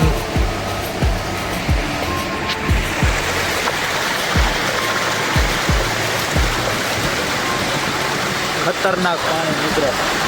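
Heavy rain pours onto a farm vehicle loaded with cumin in Gondal, making a loud, steady rushing hiss with some low rhythmic thumps.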